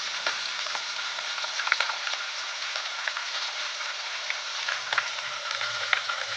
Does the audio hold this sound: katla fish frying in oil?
yes